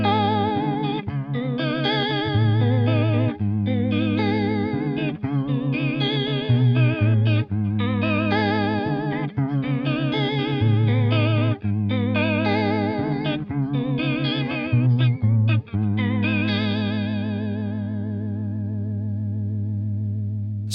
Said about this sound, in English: if I turn the rate up, and I'm going to turn the depth up to maximum, I can now get those sort of Leslie type tones